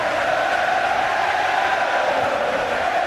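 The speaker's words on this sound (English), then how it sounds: "Crowd bursting into song here." A boxing crowd at a David Haye heavyweight title fight, singing and roaring as one dense, steady wall of sound that fills the arena with no pause.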